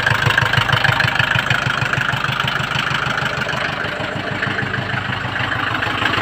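A Mercedes 208D diesel engine runs after a head gasket replacement, idling loud and close with a steady, even low chugging pulse that holds throughout, and no voices.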